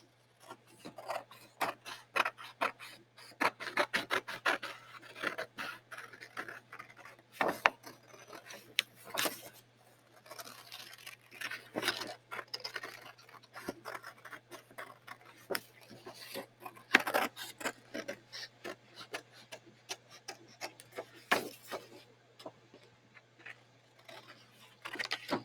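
Scissors cutting a crocodile shape out of paper, a steady run of close, quiet snipping and rasping paper crunches with brief pauses, no talking.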